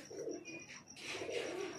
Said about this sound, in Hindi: और मेरे भाई कबूतर उड़ रहे हैं कम से कम